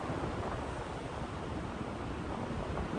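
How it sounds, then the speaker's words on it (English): Wind rushes past during a paramotor flight as a continuous, loud, broadband roar with no breaks and no voices. "Once again, we have plenty of wind."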